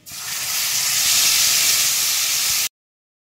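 Spice paste hits hot oil already fragrant with garam masala in a pan for a vegetarian pointed gourd dish, bursting into a loud, steady, close hissing sizzle that then cuts off abruptly.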